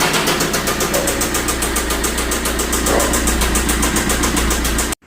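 A Tata Vista Quadrajet car engine, condition unknown, runs with a steady loud drone and fast rhythmic pulsing throughout, then cuts off abruptly near the end.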